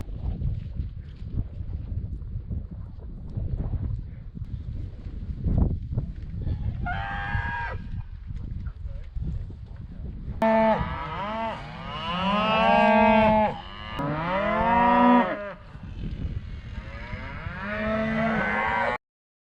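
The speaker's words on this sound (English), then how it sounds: "we're gonna move these cattle out to the other side here" Cattle moo repeatedly in an open pasture, several loud, drawn-out calls that overlap at close range, with quieter lowing and farm background earlier.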